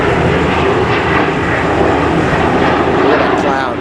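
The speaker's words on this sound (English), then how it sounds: "oh, another airplane somewhere." Propeller airplane passing overhead near a drainage facility under construction in Los Angeles, a loud, steady droning roar that fills the whole moment, with a voice speaking faintly underneath.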